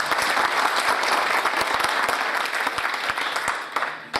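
Audience clapping at a book launch ceremony for an Urdu real estate book, a dense burst of many hands that holds steady and then tapers off near the end.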